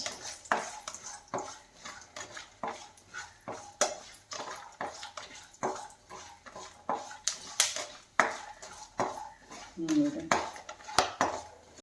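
Cashew nuts roast in a pan for oats upma, with a spoon clinking and scraping against the metal in a steady, close stirring rhythm throughout.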